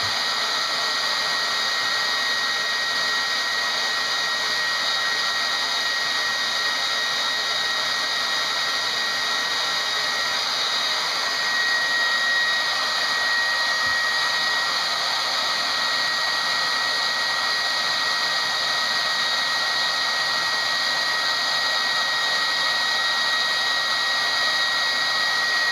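A blow dryer runs loud and unbroken for the whole stretch, a constant whine and rush of air melting glitter crayons on a canvas, with no talking.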